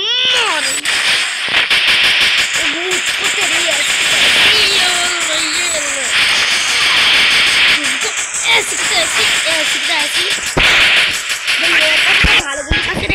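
Gunfire rings out in the mobile battle game Free Fire, with loud, rapid bursts of sharp shots repeating throughout. Other game sound effects and a voice run over the shots.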